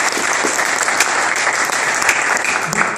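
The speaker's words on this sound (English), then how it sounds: "let's give her a round of applause" A question-and-answer audience at a film festival screening applauds a young actress, giving loud, dense, continuous clapping from start to finish with no voices on top.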